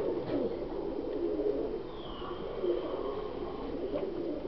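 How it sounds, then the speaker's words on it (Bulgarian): A male pigeon coos in a loft in Stara Zagora, Bulgaria, giving low, throaty rolling coos close by over steady background hum, with no talking. "Това е мъжко гълъбче и е глупчко."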